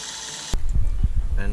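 A homemade trim control on a flight instrument panel clicks and ratchets, a sharp snap followed by a run of short close mechanical clicks and knocks.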